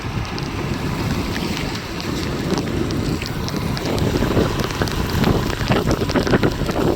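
Rain pours down during an outdoor vehicle ride, steady and close, with heavy wind buffeting the microphone the whole way through.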